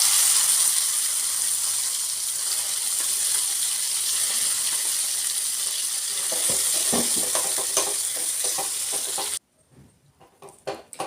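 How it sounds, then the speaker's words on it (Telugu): Hot tempering oil sizzles loudly and steadily while a spoon stirs dried red chilli tomato chutney through it. The sizzle cuts off abruptly, leaving a few soft knocks. "ఇప్పుడు స్టవ్ ఆఫ్ చేసుకొని ఈ పోపులో ఈ పచ్చడిని వేసి కలుసుకోవాలి"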